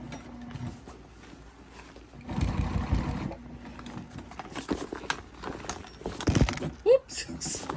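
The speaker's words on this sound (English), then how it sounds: "I'm just going to top stitch around the bag" A sewing machine with a walking foot top stitches around a vinyl crossbody bag, running slowly in an uneven series of close, rhythmic mechanical runs with a person talking throughout.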